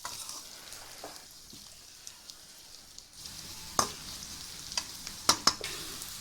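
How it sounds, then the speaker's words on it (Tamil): Onions sautéing in hot oil for a hotel-style veg kurma, a faint steady sizzle with a few sharp stirring clinks and taps near the end, no talking. "நல்லா அந்த எண்ணெயில் வதக்குங்க"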